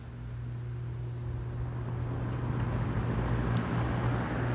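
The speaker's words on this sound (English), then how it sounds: "So I thought I'd do a quick video of the fans running" Vintage electric fans, including an Edison Thin Light, run in a kitchen on a cool, windy July day, giving a steady broadband whoosh of moving air with a low motor hum, continuous and close, with no talk.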